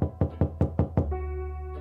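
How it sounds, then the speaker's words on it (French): Five sharp knocks on a door come in an even, quick rhythm, close and loud, before a sustained tonal drone takes over, a sound effect in a western thriller audiobook. "L'inquiétude le poussa à toquer à plusieurs reprises."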